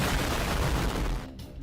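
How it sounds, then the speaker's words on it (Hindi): A loud, dense burst of booming and crackling blasts fills the scene, then drops off abruptly into a quieter rumbling tail. "देवा के वहां आते ही और वेदा के निकलते ही एक जोर का धमाका हुआ"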